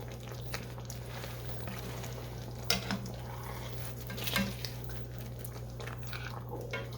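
Pork chops being turned over in a pan of savory mushroom gravy, giving a steady low sizzle and simmer with a couple of soft clinks of a utensil against the pan.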